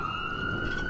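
An emergency vehicle siren, a fire truck or ambulance, on a night street in Long Beach, California, holds a steady wailing tone over distant traffic rumble, fairly loud and continuous for under a second with no talk.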